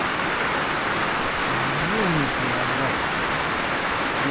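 Steady rain falling outdoors in a village in Laos, a dense continuous hiss at constant loudness, with a faint brief voice-like tone in the middle.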